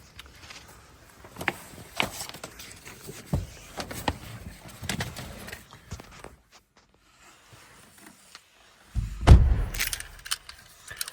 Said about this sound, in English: I have 2 keys to the vehicle